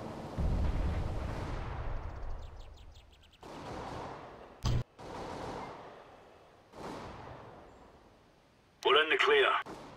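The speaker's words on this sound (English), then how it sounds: "Throwing a grenade." Grenade blasts in a CS:GO competitive match: several booming, decaying explosions spread across the stretch, with a sharp bang near the middle and a brighter burst at the end, alongside chatter.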